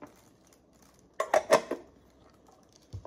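A small metal camping skillet is handled, giving a quick cluster of bright clinks and rattles in the middle of an otherwise quiet moment, with a soft knock near the end.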